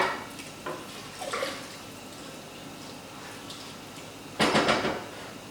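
A utensil stirs rice and water in a pot, giving faint sloshing and light scraping taps against the metal, ending in a louder clatter of the spoon on the pot, with no talking.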